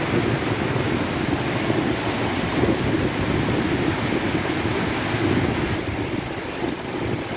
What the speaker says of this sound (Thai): ฝนแรงมากเลยนะครับ แล้วก็ยังไม่หยุดน้ำก็มาเรื่อยๆนะครับ